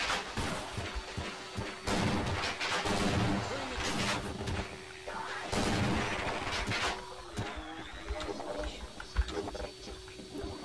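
Gunfire in the video game Half-Life: loud repeated shots and blasts in clustered bursts, with crashing impacts and heavy game noise, fading into quieter scattered sounds toward the end.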